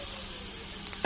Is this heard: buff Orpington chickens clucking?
no